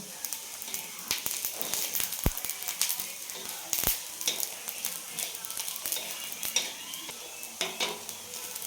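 Black stone flower spice crackles and sizzles in hot oil for a spiced mutton masala, with constant dense frying hiss broken by scraping stirs and a couple of sharp clacks of a spoon on the pan.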